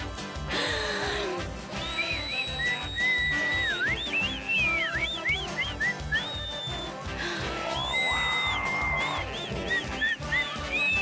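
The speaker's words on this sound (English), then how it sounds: "I was overindulging in whistling" A cartoon character whistles a bright, wavering tune over rhythmic background music, the notes sliding up and down in quick phrases.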